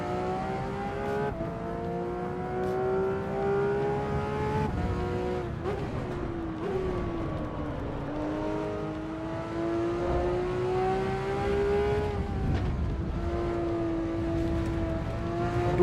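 A race car drives the Nordschleife in Assetto Corsa Evo with slight damage, its engine droning and revving in long rising and falling sweeps, shifting gears through corners, loud and continuous.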